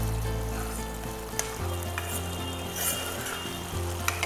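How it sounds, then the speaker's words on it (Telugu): Kashmiri chicken gravy curry cooking down to thicken in a pan on the stove, a steady close sizzle and bubble with a low hum beneath and a few faint clinks, no talking. "ఈ గ్రేవీ కొంచెం ఇంకా కొద్దిగా థిక్ గా అయ్యేంత వరకు ఉంచుదాం స్టవ్ మీద"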